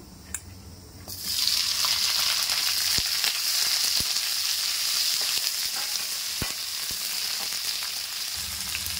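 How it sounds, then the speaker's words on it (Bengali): Chopped onions hit hot oil in a pan for chicken biryani, bursting into a loud, steady sizzle after a quiet second, with occasional sharp clicks of a spoon; no voices. "এবারে কুচানো পেঁয়াজগুলো দিয়ে দেবো।"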